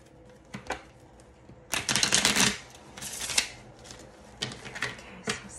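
Tarot cards are shuffled close by in several quick riffling bursts, with a long loud riffle in the middle and shorter flicks and taps before and after.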